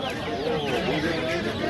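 At a poultry bazaar, a rooster gives a short run of clucking, throaty calls mixed with nearby voices and the crowded murmur of the market.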